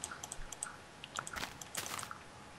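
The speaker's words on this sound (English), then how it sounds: "I'm just right-clicking to put down the blocks" Quick computer mouse right-clicks while placing blocks in Minecraft: a scattering of faint, sharp little clicks mixed with light keyboard-like taps, close and quiet over a soft background hiss.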